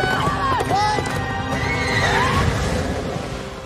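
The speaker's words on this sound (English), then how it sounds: "Poor horses." Horses neigh and whinny repeatedly amid clip-clopping hooves and a dense, loud background during a scene from an episode of the fantasy TV series Willow.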